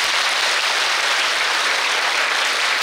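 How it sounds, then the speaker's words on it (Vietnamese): Loud, dense applause from an event audience clapping for the MC, a steady wash of clapping that holds for about three seconds with no voices over it. "Mọi người vỗ tay to hơn cho thầy MC được không ạ?"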